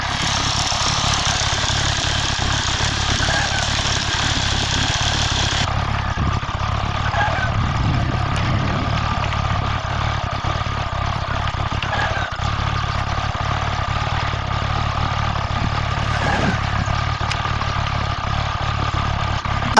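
A motorcycle engine idles steadily after a starter motor repair, a continuous low rumble with constant loudness throughout and no talking.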